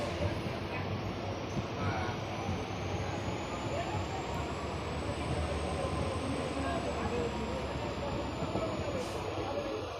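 Near Shoranur Junction on the Palakkad to Nilambur line, a train rolls along the railway track with a continuous rumble and faint rhythmic wheel clatter heard from on board, with a soft rising squeal near the start.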